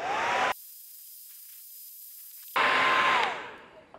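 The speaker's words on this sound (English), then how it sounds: "we've got the old trusty hairdryer, we'll heat it up" A hair dryer blows with a loud airy rush while heating a vehicle badge to remove it, cuts off briefly into a faint hum, then roars back on before winding down.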